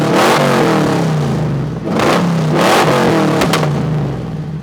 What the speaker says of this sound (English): And now here's Big Green with its MagnaFlow exhaust.